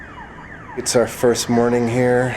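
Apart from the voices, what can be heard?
alarm going off in the distance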